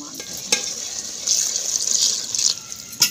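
Water splashes and hisses as it is poured into a hot cooking pot of fried potatoes and meat, a bright steady sizzle with a few sharp clinks, close by.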